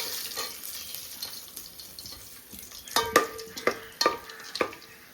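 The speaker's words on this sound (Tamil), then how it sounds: "போட்டு கொஞ்ச நேரம் லைட்டாக மைல்டாக வறுக்கணும். சிம்மில் வச்சுருக்கோம்." Cloves and cardamom fry lightly over a low flame for prawn biryani, a faint quiet sizzle broken near the end by a few sharp, close clinks of a spoon stirring in the pan.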